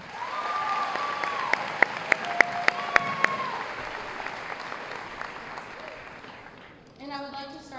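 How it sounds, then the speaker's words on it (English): A graduation ceremony audience for the class of 2019 applauds steadily as a dense wash of clapping, with a few sharp louder claps standing out. The applause fades near the end under a brief voice. "You guys should really give yourselves a round of applause."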